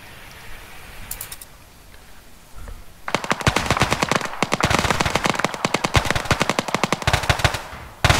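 Sustained bursts of automatic machine gun fire crackle through a video game battle scene, starting after a quiet stretch of distant ambience and continuing in loud, rapid volleys with brief gaps until the end.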